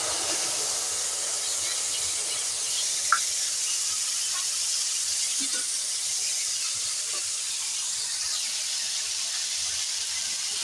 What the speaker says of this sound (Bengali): এটাও এই মশলা তেলের সঙ্গে দিয়ে দিলাম